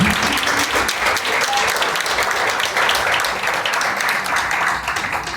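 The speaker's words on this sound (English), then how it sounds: "I want us to give another round of applause to all our recipients this evening." Steady, dense applause from a reception audience honoring award recipients at an education teacher summit in Jamaica, continuous and fairly loud throughout with no talking.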